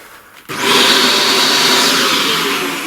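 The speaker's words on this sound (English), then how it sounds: "Vacuum that." A vacuum cleaner switches on abruptly after a moment of quiet and runs with a loud, steady whining roar, clearing pastel dust from a flower drawing.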